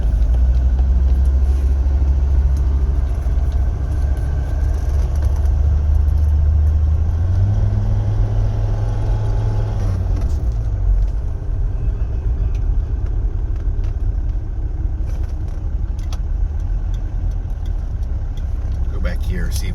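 A 1984 Mercedes 300D diesel idles after a cold start, a loud, steady low rumble close by, with a brief rise in pitch partway through and a person talking over it.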